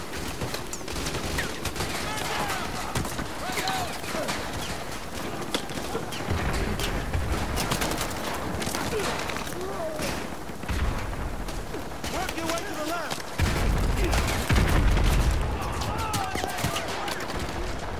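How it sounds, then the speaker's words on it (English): Call of Duty Modern Warfare 2 gunfire, sustained automatic bursts and scattered shots over a noisy battle bed, with a voice talking over the fighting throughout. "Who is shooting me?"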